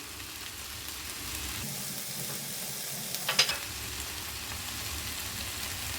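Chicken and vegetables stir-frying in a pan with sesame seeds added, a steady soft sizzle with a brief clatter of stirring midway, no talking.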